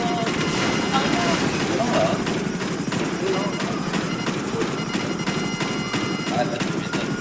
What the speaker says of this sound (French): Ah, mitrailleuse explosive.